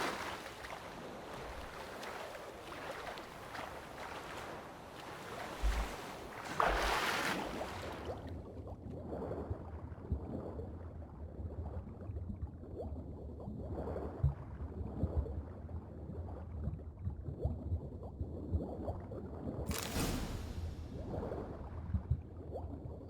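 A character swims through water in Witcher 3, with soft splashing strokes and lapping water that come in uneven bursts and grow quieter partway through.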